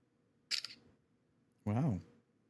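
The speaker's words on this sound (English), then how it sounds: "Have a louder shutter sound, why don't you?" A sharp mechanical shutter click, bright and close, followed about a second later by a short burst of voice.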